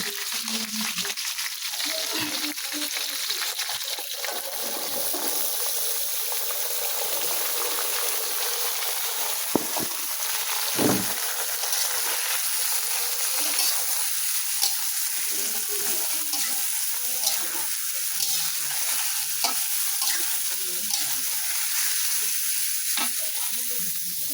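Vegetables hiss and sizzle steadily in a hot pan, a dense continuous frying crackle with occasional louder pops, close and fairly loud with no talk over it.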